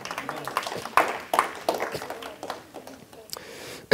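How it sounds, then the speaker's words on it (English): A congregation at a sermon claps in a loose, uneven burst. Separate sharp claps come close together and thin out over a few seconds, with a quiet room behind them. "You guys can clap for Jesus."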